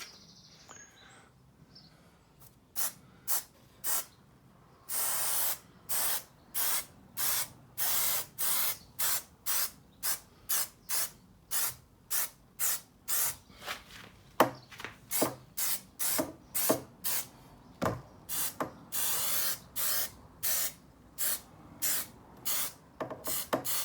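Glue is sprayed for vinyl upholstery on a Canta LX car's rear door, with dozens of short hissing spray bursts in a fast, fairly regular rhythm, loud and close, with no talking.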